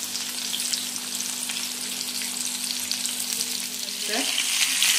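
Malvani-style fish fry sizzles steadily in a pan just after being flipped, a loud close crackle of hot oil with a brief scrape near the end and no talking.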